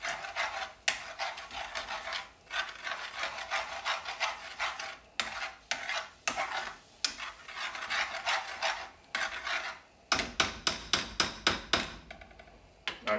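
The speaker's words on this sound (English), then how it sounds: "you gotta whack on that spoon as well" A spoon scrapes and whacks against a pan while stirring sausage gravy, repeated rasping strokes with sharp metallic knocks, speeding into quick rhythmic taps near the end, close and fairly quiet.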